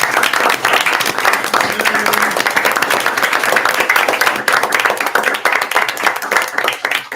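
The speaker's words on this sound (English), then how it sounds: "give Brian a round of applause and saying thank you to him for his service" Sustained applause from an audience at a city council meeting, steady and loud hand clapping filling the room for several seconds without a break.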